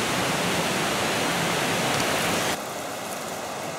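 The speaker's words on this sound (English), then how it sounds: "I descended back down to the stream." A mountain stream above a waterfall on the Yellow Bamboo Falls hike in Japan rushes in a steady, dense wash close by, dropping slightly softer and thinner for the last second or so.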